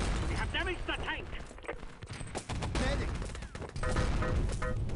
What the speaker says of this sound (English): And I got grenaded. I got rifle grenaded.